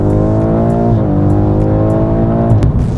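A BMW M5 sedan in M mode, downshifted, accelerates hard with a loud, droning exhaust note that climbs in pitch, breaks at a gear change, and climbs again, heard close and continuous.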